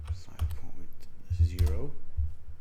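A computer keyboard clacks in quick, fairly regular keystrokes at close range while someone types values into a Python coding setup, with a voice speaking briefly over the typing.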